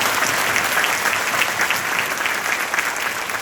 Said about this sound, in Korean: 동의하시면 박수 한번 보내주십니다